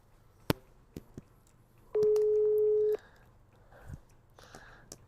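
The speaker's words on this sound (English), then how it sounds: "It's ringing." One steady telephone tone on an unanswered call sounds for about a second over a quiet line, with scattered clicks and knocks around it.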